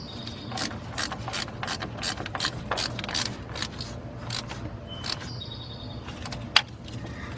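A ratchet clicks in rapid, fairly steady bursts while tightening the battery terminals on a 2005 Ford F-350 Super Duty. The clicks are close and moderately loud, with a low background hum and no talking.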